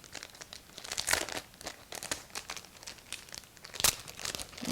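Craft cutting dies pulled out of their packaging for card making, giving close, crisp crinkling and rustling of plastic and paper in irregular bursts, with a couple of louder crackles standing out.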